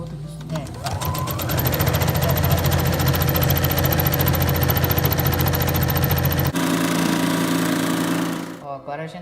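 Sewing machine stitching a seam on a patchwork rag rug, a loud rapid mechanical chatter running steadily, shifting briefly partway through, then stopping near the end.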